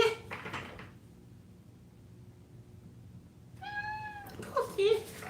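A cat gives a single clear, drawn-out meow near the microphone, then a couple of shorter sounds follow, with people talking before it.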